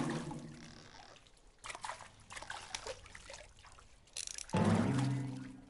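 Bath water in the video game What Remains of Edith Finch trickles and pours with bubbling and sloshing, steady and close, then swells into a louder gush of running water near the end.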